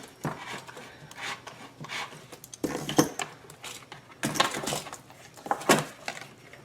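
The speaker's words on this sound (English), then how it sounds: "I'm going to use a repairman's reamer just to clean it up just a little bit." Repairman's reamer cleaning up a hole in a MaXpeedingrods MXR3500 generator fuel fitting, heard as several short rasping, scraping strokes in bursts with small metallic ticks, close and fairly quiet.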